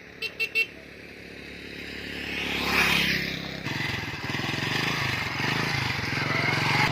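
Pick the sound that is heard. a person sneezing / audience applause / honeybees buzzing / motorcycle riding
motorcycle riding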